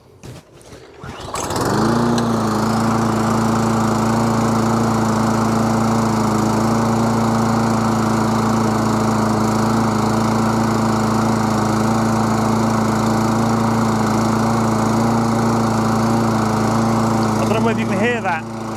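A Briggs and Stratton lawn mower engine that had been running lumpy, fitted with a new spark plug, starts up and settles into a loud, steady running drone close by, continuing evenly for the rest of the clip.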